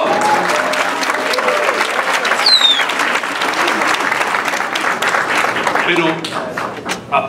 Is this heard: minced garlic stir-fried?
no